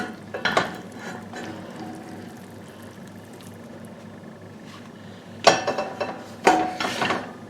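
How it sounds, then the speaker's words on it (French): Pasta being gently mixed with shrimp, garlic, herbs and crème fraîche in a wide frying pan, soft wet stirring and a low simmering hiss, with a few louder clanks of the utensil against the pan near the start and end. "je vais venir tout mélanger délicatement"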